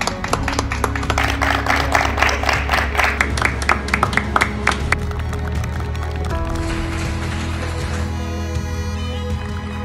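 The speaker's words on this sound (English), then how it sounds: "Please join us in a round of applause for all NHS and workers." Sustained clapping from a crowd, dense and steady, with a rhythmic musical backing continuing underneath as the applause goes on.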